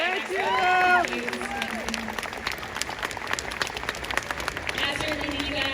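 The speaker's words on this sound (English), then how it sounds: "Big round of applause for Katee," A fan expo panel audience applauds, dense sustained clapping from a large crowd that continues steadily, with cheers and voices rising over it at the start.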